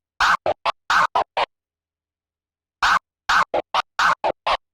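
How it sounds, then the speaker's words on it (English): A DJ scratch pattern cut on a turntable using the crossfader, made of short, sharp bursts in two rhythmic clusters split by about a second and a half of silence, each burst chopped off cleanly and fairly loud. "now let's hop into the beginning of the scratch pattern"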